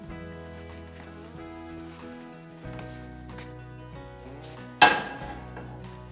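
A cooking pan is taken out and handled, one sharp, loud metallic clang ringing out over quiet background music late in the moment.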